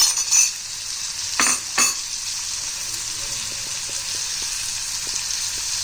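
Chopped onions fry for palak paneer in a pan with a steady close sizzle, broken early by a few sharp clinks of a utensil stirring against the pan.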